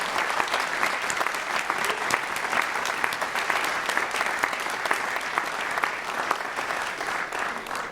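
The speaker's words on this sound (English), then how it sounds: "please let's give a round of applause to the chorus for that." A seated audience at a military retirement ceremony for a master sergeant applauds a chorus, with dense, steady clapping that continues evenly for the full stretch without a break.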